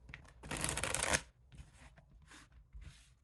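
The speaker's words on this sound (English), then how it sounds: "I'll give that one more good shuffle." A deck of tarot cards is shuffled in one loud, dense riffling burst lasting under a second, followed by softer, brief handling rustles of the cards.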